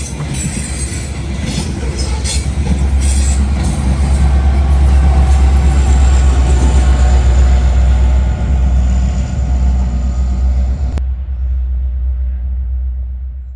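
A long freight train, number 778, with an AC44C6M and an SD70ACE locomotive at the rear, rumbling past close and loud with steady wheel and car noise that cuts off abruptly near the end.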